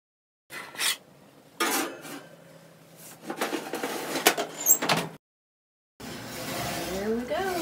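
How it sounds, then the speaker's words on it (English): A dish of keto chicken and dumplings goes into the oven: an oven door creaks open and the rack slides with clattering bakeware, then a brief pause and a final knock and rustle, all near and fairly loud. "We're going to put it in the oven and come on back and we'll eat."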